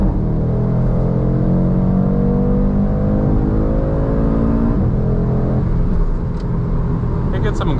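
A 2024 BMW M2 or 2024 Audi RS3 pulls hard from about 20 mph in second gear, the loud engine note climbing steadily for several seconds, then easing at a shift or lift near the end.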